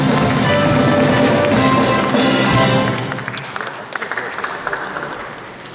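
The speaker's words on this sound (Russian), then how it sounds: "Аплодисменты звучат." Applause at a ceremony celebrating the 1100th anniversary of the Volga Bulgaria's adoption of Islam in Moscow, a dense, loud clapping crowd that thins into scattered claps after a few seconds, with voices mixed in.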